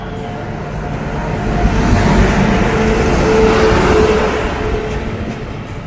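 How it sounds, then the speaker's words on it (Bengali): A train pulling into a station platform on a route toward Surat, with a steady loud rumble that swells and fades over several seconds; no talking. "চলে এসেছে ট্রেন, এটা সুরাট যায়"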